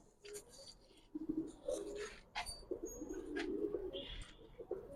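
Giribaz pigeons coo softly at a loft, their low murmuring calls repeating close by over a steady background hum.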